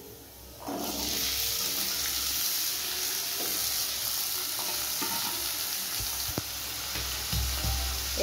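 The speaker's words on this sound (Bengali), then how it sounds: "আর একটু হলুদ দিয়ে আলুগুলোকে ভেজে নিতে হবে।" Small chopped potatoes sizzle in refined oil with salt and turmeric for homemade ghugni, a loud continuous frying hiss starting abruptly after a quiet moment, with a few utensil knocks near the end.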